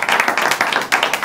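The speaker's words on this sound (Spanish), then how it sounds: "cabecera y aplauso" A studio audience at a Spanish stand-up comedy show claps together, a dense, steady wash of many hands lasting about a second without a break.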